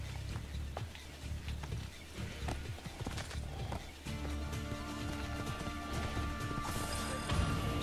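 Rhythmic horse hooves in the video game Assassin's Creed II clip-clop steadily at a gallop, close and fairly loud, with a few thuds and bright tonal game sounds joining later.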